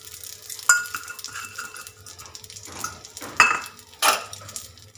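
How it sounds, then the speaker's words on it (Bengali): Fifty grams of moong dal go into hot oil in a wok, giving a faint sizzle under louder metallic clinks and scraping of a spoon against the pan, heard close and without talk. "তেলটা এখানে গরম হয়ে গেছে, এতে আমি দিয়ে দিচ্ছি 50 গ্রাম মুগ ডাল।"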